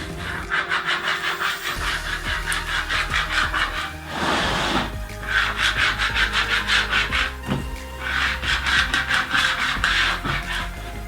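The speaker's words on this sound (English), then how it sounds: "we're going to get this scraped really good" Adhesive vinyl from a Cricut Joy is scraped firmly onto a wooden growth-chart board, with repeated rhythmic rubbing strokes in three long bursts separated by brief pauses, close and fairly loud.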